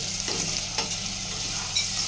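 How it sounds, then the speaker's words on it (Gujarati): Whole spices and aromatics sizzle steadily in hot oil while tempering a Gujarati potato curry, a close, continuous frying hiss with faint stirring clinks and no talking. "બટેકાનું શાકમાં બધો વઘાર થઈ રહ્યો છે"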